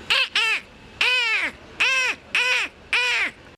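A man imitates the thin, high caws of Fatsa crows, giving six loud, nasal calls in quick succession, each a short arching cry with brief gaps between them, alone and close up.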